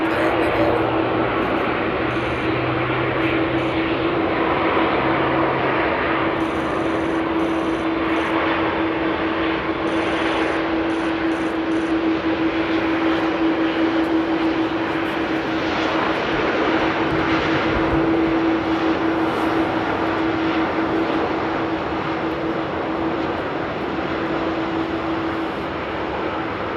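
An airliner lands at Amsterdam Airport, its broad, steady engine roar with a sustained whine carrying on throughout, fairly distant, with faint voices now and then.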